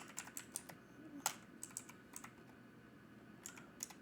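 Light clicks and taps on a computer keyboard, a dozen or so scattered irregularly over a few seconds, faint and close against a quiet room hiss.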